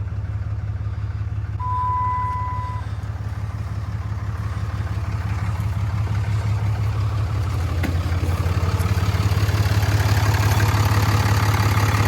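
A Cummins 6.7 diesel engine idles after an engine fire, a steady low rumble holding even for the whole stretch, close and loud, with a brief high tone sounding early on and no talk.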